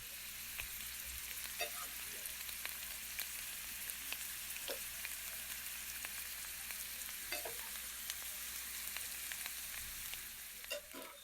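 Banana-and-jaggery puris deep-frying in hot oil, a steady close crackling sizzle running throughout with occasional brief pops and scrapes, no voices.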